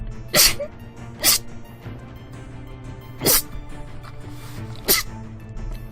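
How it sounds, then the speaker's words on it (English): A person sneezes four times in quick, small bursts, each short and sharp, spaced about a second or two apart, with quiet room tone between. "Sorry, sneezing. I sneeze like a cat, I'm aware."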